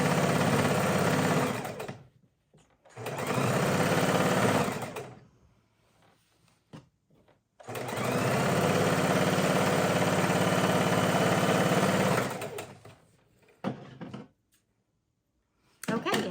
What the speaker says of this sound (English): We're right on the edge and sewing.